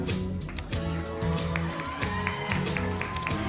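An audience at the Miss Namibia 2022 preliminary applauds and cheers for a beauty pageant contestant, a dense, steady roar of clapping and shouts with music playing underneath throughout.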